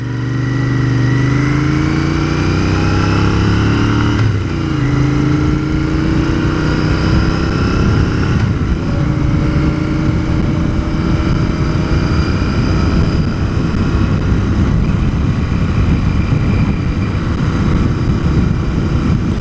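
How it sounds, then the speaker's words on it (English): A 2021 Royal Enfield Continental GT650 on its quiet stock factory exhaust pulls through the gears, engine pitch climbing steadily then dropping at each shift around every few seconds, a continuous close drone with wind rush and no talking. "As far as exhaust note goes, it's a typical factory exhaust. It's pretty quiet."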